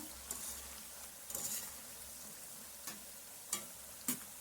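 Cauliflower pakoda fries in hot oil with a soft, steady sizzle. A few sharp stirring taps come at irregular intervals.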